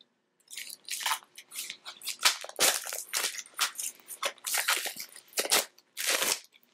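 Plastic wrap is torn and crinkled off a boxed card game, producing a series of loud, close, crackly bursts in quick irregular succession with brief pauses between them.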